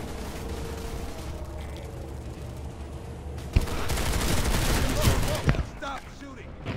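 Weapons in the sci-fi shooter PlanetSide 2 fire in rapid bursts, a rattling fusillade that grows louder and denser midway with sharp impacts, while voices talk beneath the combat noise.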